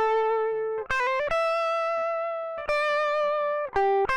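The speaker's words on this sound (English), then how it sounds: "So this is just the distortion box." Distorted electric guitar run through a distortion box alone, with no amp or cabinet, playing a lead line of sustained, buzzy notes. The tone is thin and harsh, with a few quick note changes between longer held tones.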